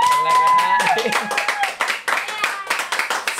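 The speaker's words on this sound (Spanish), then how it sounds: "Quiero que lo reciban este estudio un fuerte aplauso al influencer número uno que tiene Puerto Rico" Studio audience clapping and cheering for a guest on a Puerto Rican talk show, dense irregular hand claps filling the room with voices and shouts mixed in throughout.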